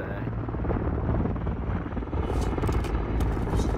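Helicopter in the Call of Duty Modern Warfare III video game, a loud continuous rotor thrum with a steady low chop sustained throughout and a few brief higher bursts near the end.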